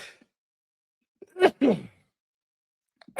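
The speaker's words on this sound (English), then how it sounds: "About to sneeze." A single sharp sneeze after a quick inhaling breath, close and loud, followed by a short pause and another brief vocal sound.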